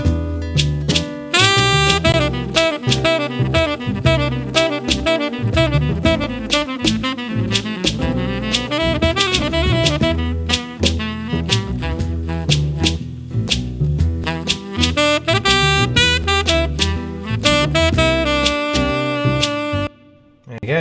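A full band mix run through an Ozone maximizer plays loud and dense, with steady drums, bass and layered harmonic instruments filling the whole range, then briefly dropping out near the end.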